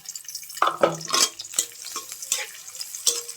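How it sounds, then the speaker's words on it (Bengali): Chopped garlic and onion frying in oil in a pan, with a light sizzle under repeated close scraping and clattering stirs at an irregular rhythm, no talking. "তারপরে দিয়ে দিলাম তেলের ভিতরে রসুন কুচি পেঁয়াজ কুচি"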